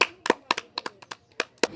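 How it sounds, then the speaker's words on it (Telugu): A few people clap their hands in short, uneven bursts of separate sharp claps during a light-hearted home puzzle game, close by and fairly faint. "వావ్ క్లాప్స్ కొట్టండి"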